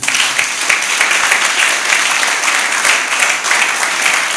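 A church congregation claps steadily and loudly in acclaim of the Lord, a dense, sustained round of applause filling the room with no voices standing out.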